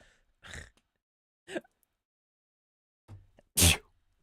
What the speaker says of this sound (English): That was a allergy sneeze.